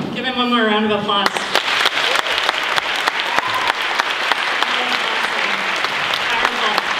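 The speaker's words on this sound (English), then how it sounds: "Give him one more round of applause." Audience applause at a talk on loneliness, anxiety, depression and suicide: a sustained, dense round of clapping from a large crowd fills the room at steady loudness, with a voice speaking briefly at the start.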